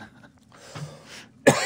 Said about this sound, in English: Just a mid-story cough.